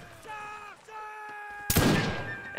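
Musket volley in the Napoleonic-era video game Mount & Blade: Napoleonic Wars: a loud burst of gunfire erupts after a stretch of quieter game sounds and tones, then trails off.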